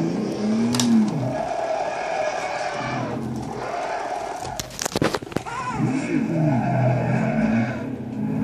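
A car in a racing video game, played on a Logitech Driving Force GT wheel with a DIY clutch and handbrake, skids with long, wavering tire squeals over a steady engine drone, punctuated by sharp clicks and knocks from the controls.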